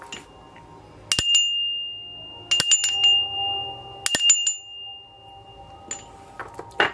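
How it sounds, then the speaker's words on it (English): A small bell is struck three times at even intervals, each strike ringing out with a clear, sustained metallic tone in a quiet room. "I'm going to ring the bell 3 times"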